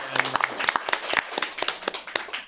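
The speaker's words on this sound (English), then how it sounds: "Give yourselves another round of applause." Live audience applause at a podcast recording, a dense patter of many hands clapping with sharp individual claps poking through, fairly close and steady throughout.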